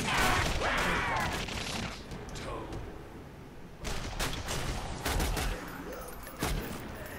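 Gunfire in The Darkness 2, several sharp bursts and scattered shots with loud bangs and crashes, mixed with voices talking over the fighting.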